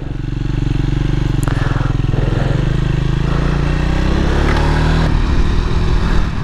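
A Triumph 400 motorcycle, Speed 400 or Scrambler 400 X, rides a winding road with a loud close engine drone that rises and falls through the revs amid wind rush, with no talk.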